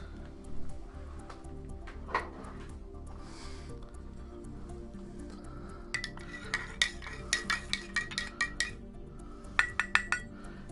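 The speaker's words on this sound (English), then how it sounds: "Yeah, I need to stir this coffee." A spoon clinks and scrapes against a ceramic coffee cup while stirring, with quiet clatter early on and a rapid run of bright metallic taps in the last few seconds, close and fairly quiet.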